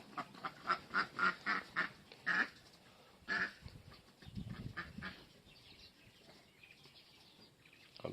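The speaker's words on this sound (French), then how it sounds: "Un petit accouplement de canard en direct." A run of quick, raspy duck quacks in a rhythmic burst as ducks mate, followed by a couple more calls and then softer scuffling and splashing, fairly close.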